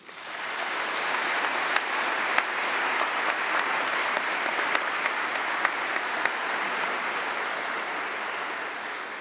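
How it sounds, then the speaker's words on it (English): Sustained applause from a large audience fills a university great hall at a winter congregation ceremony, steady and dense for the whole stretch with no talk. "Let's please give them a round of applause."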